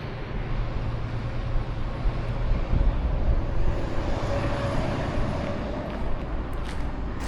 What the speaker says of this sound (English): I'm just here to find the noise, like the whining noise that the truck is making